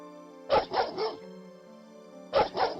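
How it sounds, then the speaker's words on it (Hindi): Pet dogs bark in two bursts of several quick barks each, close and loud, separated by a quiet gap with a low steady hum. "ये हमारे पालतू कुत्ते हैं।"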